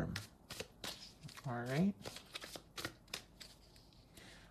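Tarot cards shuffled by hand in a run of quick papery riffles and flicks, close and fairly soft, with a voice speaking briefly over them.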